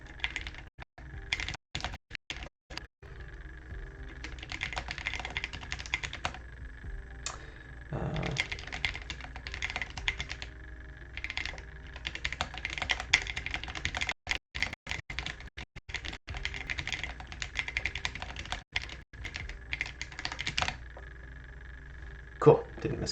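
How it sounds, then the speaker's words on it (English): Computer keyboard typing during a livestreamed biology lecture, a steady stream of close, light clicking keystrokes in bursts with brief pauses, with no other sound. "Is the tapping of the keyboard driving anybody crazy?"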